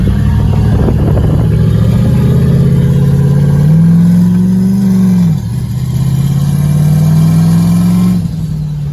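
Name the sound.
turbo 6.0 LS engine car accelerating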